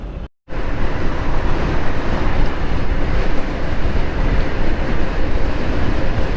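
A goods train passing along a roadside route between Raiganj and Siliguri, a steady loud rumble with a faint rhythmic rattle of wagons, heard up close and continuing for the whole stretch without talk.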